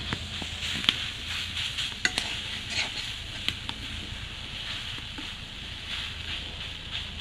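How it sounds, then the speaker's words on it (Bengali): Papaya being stirred in a wok for laddu, giving a soft, steady scraping and faint sizzle with scattered clinks of the spatula against the pan. "দেখো এরকম নাড়াতে থাকবা যেন তলে না ধরে কড়ইটি।"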